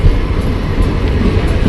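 A Konkan Railway express train on the Sangameshwar to Mumbai run rumbles loud and continuous inside a crowded coach, with no talk heard.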